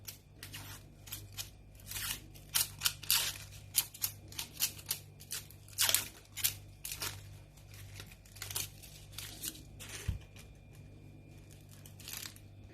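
A knife slices through a peeled red onion on a board, giving a quick run of crisp, close cutting crunches with short pauses between strokes.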